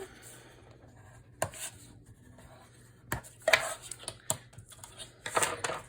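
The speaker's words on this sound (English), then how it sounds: "So I'm gonna fold that down" Paper for a craft folio being folded, with soft rustles and a few sharp creasing snaps and taps, close and fairly quiet, with faint background hum.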